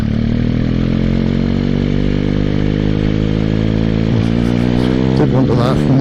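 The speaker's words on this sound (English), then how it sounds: "I'm just going to ease the bike down into first gear" A motorcycle engine runs steadily in first gear on the road, a continuous loud drone with rising revs as the bike pulls away, ending with some clattering scrapes and an acceleration.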